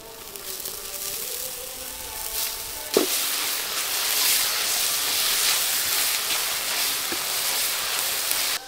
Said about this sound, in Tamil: அடுத்து இஞ்சி பூண்டு பேஸ்ட் சேர்த்துலாம்.